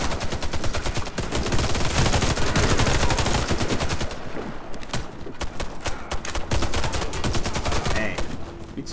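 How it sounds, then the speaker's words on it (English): Dense, loud automatic gunfire in Warface PC gameplay, rapid bursts rattling almost continuously with brief pauses, up close and overlapping, with speech faintly underneath. "Who's shooting at us?"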